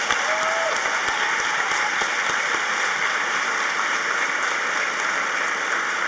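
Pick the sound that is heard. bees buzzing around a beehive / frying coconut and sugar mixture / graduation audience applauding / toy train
graduation audience applauding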